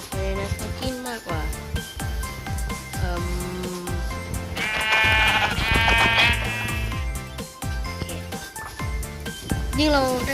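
Sheep in the video game Minecraft bleat repeatedly, with several wavering cries rising clearly over a person talking almost continuously alongside game sounds.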